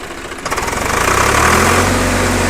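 A Swaraj tractor engine revs up from a low rumble into a loud, sustained, throbbing roar, heard close by with no talking.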